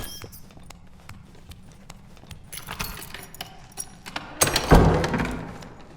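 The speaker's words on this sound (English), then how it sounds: "whether that sound is another player's footsteps or a goblin smacking its bare feet on the wet cave floor" Footsteps in the dark fantasy dungeon game Dark and Darker, a string of soft thuds and scuffs in a quiet cave ambience, growing louder and closer toward the end with a sharper burst of impacts.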